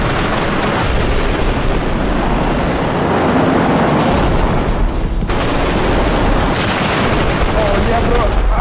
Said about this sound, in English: I'm talking about a full rework with gunshots.